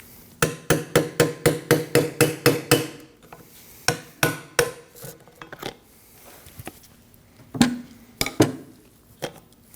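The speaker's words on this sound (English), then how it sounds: "I'm just going to use a small pry bar and a hammer." A hammer drives a small pry bar to lift the tabs on a 2009-2014 Ford F-150 front steering knuckle: about ten quick, evenly spaced metallic taps, followed by slower, scattered strikes and scraping, loud and close.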